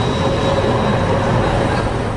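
City trams running through Potsdam, a steady loud rumble of rail cars on track with a faint high squeal held throughout, no voices.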